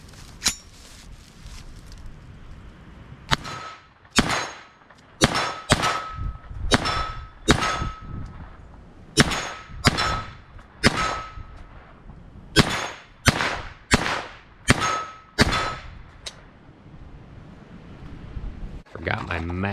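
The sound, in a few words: loading rounds into standard Glock magazines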